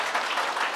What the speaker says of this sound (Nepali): एकपटक तपाईँ सम्पूर्णमा ताली बजाइदिनु हुन म हार्दिक अनुरोध गर्दछु